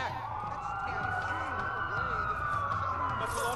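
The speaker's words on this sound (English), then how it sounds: "That's a lot of sirens for a blackout." Police sirens wailing in the video game Watch Dogs, a steady wavering siren tone under low ambient rumble and layered with other sirens.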